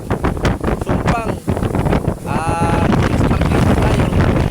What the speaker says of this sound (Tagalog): Eh, malalaki yung alon. Tapos hangin, ang hangin, amihan